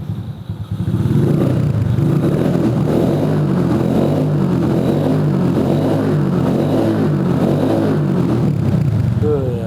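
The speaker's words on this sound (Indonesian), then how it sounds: "Sekarang kita cobain ya gimana suaranya motor si Mini Scrambler ini" A Honda Karisma motorcycle, customised into a mini scrambler, runs with a loud, continuous, bassy engine note that holds steady throughout.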